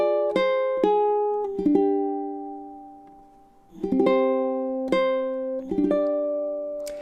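Ukulele playing a chord-melody arrangement of the Japanese song Sakura, measures 13 to 15: plucked chords and single melody notes in a slow, spaced rhythm, each ringing and decaying, close and clear with no voices.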